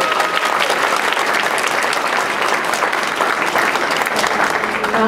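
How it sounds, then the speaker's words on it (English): Audience at a school winter chorus concert applauds with dense, loud, sustained clapping that holds steady throughout. "I would like you to applaud for our accompanist who gives so much of her time, Mrs. Holliday."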